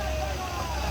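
A dump truck engine drones low and steady as it works up an extreme uphill road at Kedabuhan, while people talk nearby over the continuous rumble.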